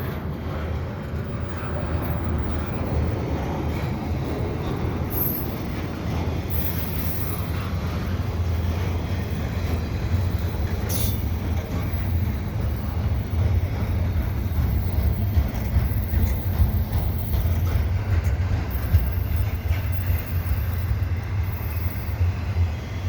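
A Canadian Pacific double-stack freight train rolls past at Dorval in winter, a continuous close rumble of wheels and cars with occasional brief squeals, steady throughout.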